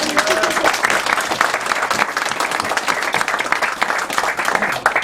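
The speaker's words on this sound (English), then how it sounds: "Could I have a round of applause for our ring bearers?" An audience at a ceremony gives a round of applause for the ring bearers, steady dense clapping from many people lasting throughout, close and loud.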